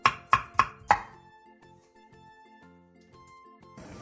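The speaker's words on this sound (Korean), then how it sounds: "청양고추 1개와 청양 홍고추 1개를 어슷썰기 해주세요." Four sharp knife strikes on a cutting board as Cheongyang green and red chili peppers are sliced diagonally, evenly spaced and close, then light kitchen clatter with a soft musical tone in the background.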